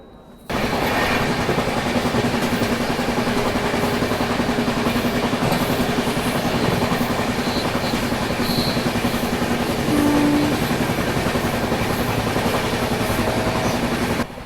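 Aboard the Maharashtra Sampark Kranti Express in Maharashtra, a loud, steady roar of wheels on rails fills the whole stretch, with a rhythmic clatter and a brief tonal squeal near the end.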